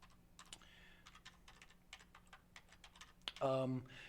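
Fingers type on a computer keyboard in a quiet indoor room, a close run of light, irregular key clicks and taps, followed near the end by a louder burst of other sound.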